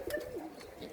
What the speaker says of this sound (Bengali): এখানে আরো কবুতর আছে ঝাঁপির মধ্যে